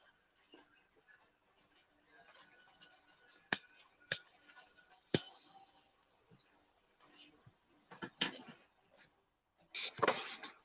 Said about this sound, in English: Y'all hear clicking, I'm just lighting a cigarette.